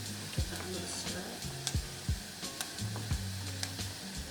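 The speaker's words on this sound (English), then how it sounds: "now that they have sautéed, give that another stir" Onions sauté and sizzle in a hot pan while a spoon stirs through them, the steady close frying hiss broken by repeated soft scraping knocks, with faint talk in the background.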